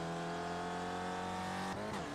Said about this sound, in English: That is Jackson in the next car just ahead there